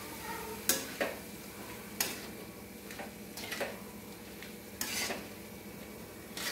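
Dal with turmeric is stirred in a pan, with a spoon scraping and knocking in irregular strokes over a faint sizzle, close and moderately loud.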